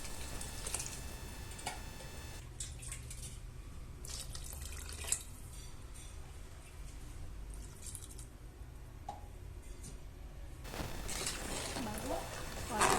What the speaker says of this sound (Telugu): 3 గ్లాసెస్ ఆఫ్ వాటర్ వాడుతున్నాను.